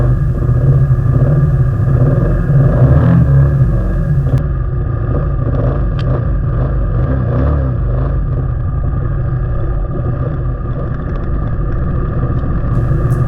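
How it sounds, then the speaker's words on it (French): Adventure trail motorcycle engines rumble steadily off-road, a loud continuous drone with occasional rattles and knocks, no talking. "On peut passer partout avec ces motos."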